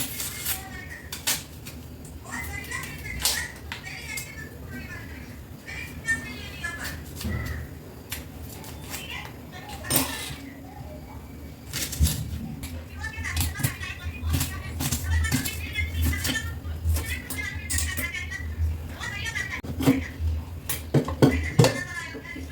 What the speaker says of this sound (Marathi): सो आपण कांदा कापून घेऊ